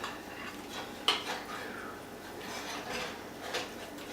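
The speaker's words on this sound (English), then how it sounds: "I'm going to take her dip out right quick, and I'm going to give her a little stir." A hot cheesy bacon dip getting stirred in a pan, with one sharp metal clank of the utensil early on, then soft scraping and light rubbing, close and fairly quiet.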